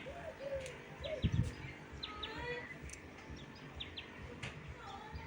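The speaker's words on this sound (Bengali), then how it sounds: "এই দেখো একটা পাখি ডাকছে কত সুন্দর আওয়াজ হচ্ছে" A bird calls repeatedly outdoors with short chirps and cooing notes over a soft background hum, the calls moderately close and fairly faint, with a brief low thump partway through.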